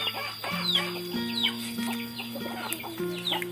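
Several short rooster clucks come in a loose, irregular rhythm at close range over a steady background hum, with no talking, outdoors where rice is being cooked and chicken grilled.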